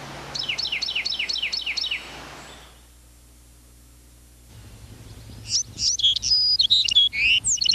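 A Carolina wren delivers a rapid run of repeated bright, rolling song phrases, falls silent for a couple of seconds, then gives a burst of loud, sharp call notes, close and clear against a quiet background.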